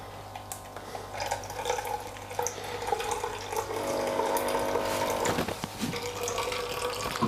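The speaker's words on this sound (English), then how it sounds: "So what I'm gonna do is run it through my strainer." Liquid poured through a kitchen strainer makes a continuous splashing, trickling pour that swells louder midway. A low hum sits underneath, and a few clinks come near the end.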